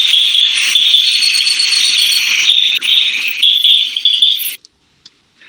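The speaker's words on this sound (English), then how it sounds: "They are called the dwarf bush frog." A played recording of dwarf bush frogs calling, a dense high-pitched ticking chorus that runs steadily for several seconds, loud and continuous, then cuts off abruptly into near silence.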